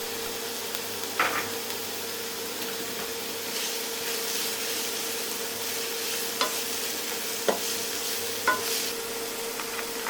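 Onions and carrot stalks sizzle steadily in a hot pan for a vegetable spring roll filling, with a few sharp scrapes and clacks as they are tossed around, fairly quiet and with no talking.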